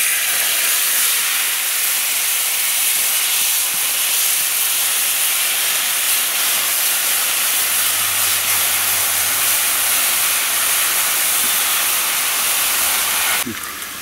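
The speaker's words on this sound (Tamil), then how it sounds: "வெங்காயம் வந்து வதங்கட்டும்" Ground onion paste frying on a low flame in a pan for avoli fish curry, a continuous dense sizzling hiss held close and loud throughout, with a faint low hum partway and a sharp cutoff at the end.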